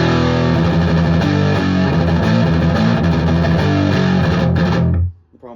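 An electric guitar runs through a Mesa Boogie Synergy IICP preamp with every control at noon. Loud, dense distorted chords and riffs play continuously, then stop abruptly near the end.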